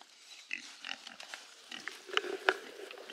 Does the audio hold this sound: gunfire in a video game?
no